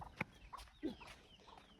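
Chickens on a farm with buffalo: several soft, short clucks and squawky calls at a moderate distance, scattered over a couple of seconds against a quiet background.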